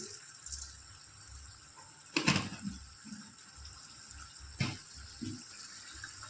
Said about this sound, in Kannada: ಸ್ವಲ್ಪನೇ ವಾಟರ್ ಹಾಕಬೇಕು